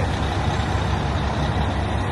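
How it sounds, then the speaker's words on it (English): A dump truck pulls into a trucking yard with a steady, close diesel rumble and broad road hiss, and no one speaks. "Another truck pulling in."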